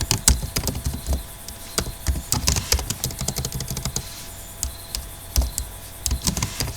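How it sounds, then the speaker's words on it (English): Keys clatter on a computer keyboard in quick, uneven bursts of close, crisp taps with brief pauses, with no talking. "goodness my typing"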